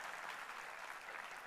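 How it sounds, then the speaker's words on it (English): Audience applause at a convocation ceremony, a brief, faint, steady wash of clapping from a crowd. "Yes, you can applaud to that."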